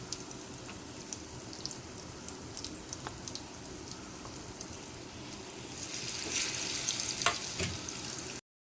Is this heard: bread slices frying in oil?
yes